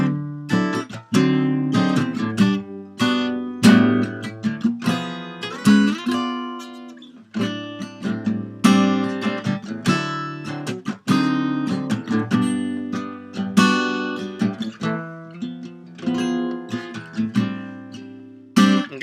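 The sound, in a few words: guitar playing song bridge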